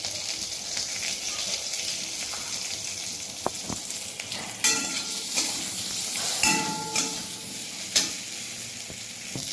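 Vegetables frying in oil in a home kitchen pan, a steady close sizzle throughout with a few sharp clinks and stirring knocks of a utensil against the pan, no talk.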